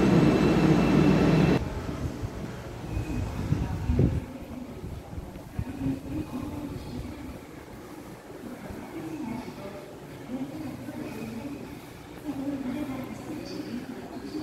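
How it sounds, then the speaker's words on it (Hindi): A Seoul metro train pulling out of Sangdo station: a loud rush of noise at first, then a steady rumbling hum of the departing train that fades and lingers on the platform. "अभी ट्रेन आगे रवाना हो जाएगी"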